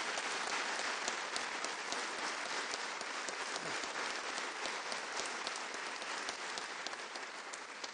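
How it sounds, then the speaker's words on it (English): A crowd at a Veterans Day ceremony in Phoenix breaks into steady, sustained applause for the veterans, dense clapping filling the whole stretch at an even, moderately distant level with no talk over it. "How about a round of applause for our veterans, please?"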